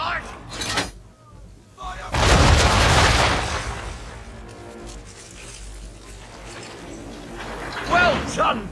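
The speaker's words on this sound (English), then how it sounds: "Bring around broadside, and when all guns are on target, call fire." Ship cannons fire a broadside in Assassin's Creed 3, a deep rolling boom that swells and rumbles for about two seconds amid battle noise, with voices speaking over the din.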